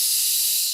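A voice imitates the second whistle of a pressure cooker cooking vegetables, producing a short, steady, loud hissing blast with no talk.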